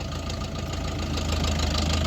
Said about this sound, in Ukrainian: Відвантажуємо тракторця Лову 454 рівна підлога, реверс, 12 передач вперед, 12 передач назад, 4 циліндровий на 45 кінських сил, повнопривідний.